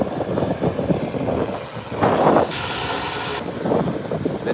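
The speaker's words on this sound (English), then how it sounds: "The Twin Otter is taxiing out, heading back into South Caicos." A Twin Otter turboprop taxis out at an airfield, its engines giving a steady, loud propeller drone with a whining tone, swelling briefly as the power rises, and no voices.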